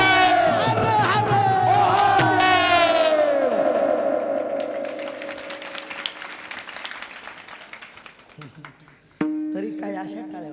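An audience at a devotional talk about Chhatrapati Sambhaji Maharaj bursts into loud, echoing applause, with shouted voices rising at first, then dense steady clapping that fades before a sudden fresh swell near the end.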